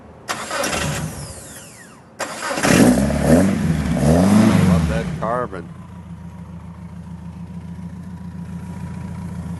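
A Datsun 1600 Roadster with a custom-made muffler cranks and fires, revs hard for a few seconds, then drops to a steady burbling idle, with people talking nearby.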